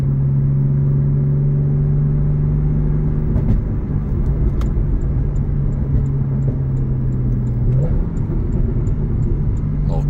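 A 2015 Porsche 911 Carrera GTS drones along from inside the cabin, its exhaust giving a few faint crackles and pops over the steady engine hum as it shifts down.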